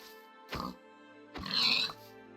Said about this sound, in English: Pig over there too.